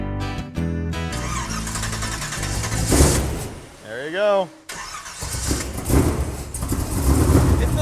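A muscle truck with a 4-inch exhaust and bullet mufflers, not run for about two years, cranks and fires up, then roars and settles into a loud, rough idle close by as people talk over it.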